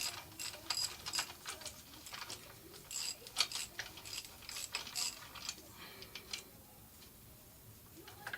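Ratchet wrench with a 22mm socket tightening the strut nut on a 1998 Toyota Corolla front strut held in a spring compressor, giving bursts of quick metallic clicks in a close, moderately quiet workshop setting.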